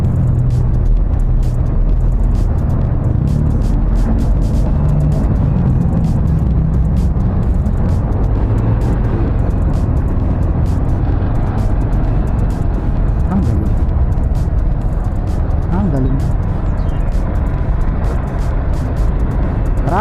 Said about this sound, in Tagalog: Traffic na kahit Sunday dito sa Centennial Road.